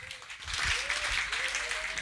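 Audience applause at a DJ event in London, a broad wash of clapping that swells after a brief start and holds steady at moderate level, with a faint voice-like tone drifting underneath.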